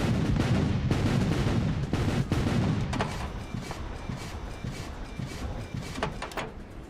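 Heavy weapon blasts from robots in the mech combat game War Robots, loud booming bursts in the first few seconds, then fading into a lower rumbling battle ambience with scattered impacts.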